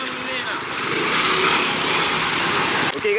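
A rented motor scooter in Krabi, Thailand runs with a buzzing high-pitched engine drone, loud and close, rising slightly before cutting out near the end, with people talking over it.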